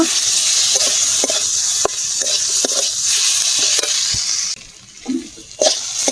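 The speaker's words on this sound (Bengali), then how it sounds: "এবার দিয়ে দেবো ভেজে রাখা আলুটা, একটু ভালো করে নেড়ে চেড়ে কষিয়ে নেব" Fried potatoes with mustard paste are stirred in a pan over a loud, steady sizzle, with repeated spoon scrapes and knocks. The hiss briefly drops near the end and then returns. No voices.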